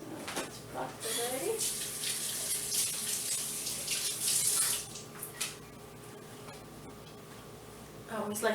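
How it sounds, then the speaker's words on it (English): Tap water running steadily over fingers as egg is rinsed off in a kitchen sink, a loud hissing splash that starts abruptly, then eases to a quieter trickle with brief clatters. "I always like to rinse my fingers if I get eggs on them"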